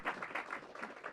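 Brief, faint applause from a groundbreaking ceremony audience, soft scattered clapping heard from a distance.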